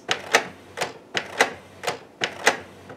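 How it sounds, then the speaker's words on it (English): A Canon Pixma MG3022 inkjet printer prints with a regular cycle of paired mechanical clacks and whirring carriage passes, repeating roughly every half second, close and steady. "It prints relatively quickly."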